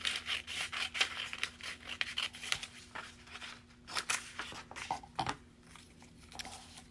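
A strip of paper cut with scissors, a run of close, rapid snipping and rasping strokes in uneven bursts, with a short pause near the middle before a few final cuts.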